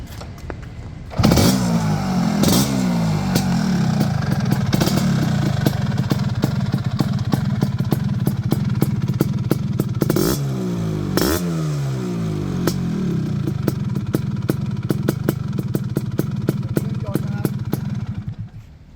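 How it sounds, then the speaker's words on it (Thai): A Vespa Sprint scooter with a BMC 187 kit and front disc brake starts up, then idles with a steady putter and sharp rev blips. The engine sounds close and loud, with a person speaking over it. "เดี๋ยวลองสตาร์ทเครื่องให้เพื่อนๆฟังก่อน"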